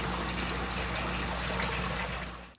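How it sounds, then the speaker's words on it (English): Fresh water steadily pours and trickles into an aquarium system being topped off after a drain, a continuous near splashing wash that holds throughout and cuts off at the end. "I need to do a water top off"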